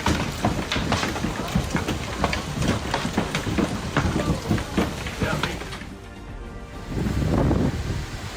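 Tennis ball-sized hail pelts a Minnesota lake in a dense, continuous roar of hard impacts and splashes, steady and loud with no one speaking.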